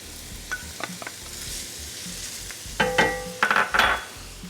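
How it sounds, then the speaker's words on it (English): Celery, fennel and other vegetables sautéing in a pan, a soft steady sizzle broken by a few louder scrapes and clinks of a utensil stirring near the end, no voices. "we're going to saute these up till they're nice and tender"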